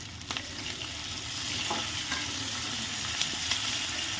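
Small chopped onions (shallots) sautéing and being stirred in a pan for a lentil-dumpling curry, a steady close sizzle with a few scraping stirs, no talk.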